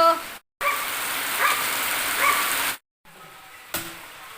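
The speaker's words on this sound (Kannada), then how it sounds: "ಮಳೆ ಬರುವಾಗ ನಿಮಗೆ ವಾಯ್ಸ್ ಕೂಡ ಸರಿ ಕೇಳುವುದಿಲ್ಲ" Steady rain falling outside makes a dense, loud hiss that cuts out briefly twice, with faint sounds under it.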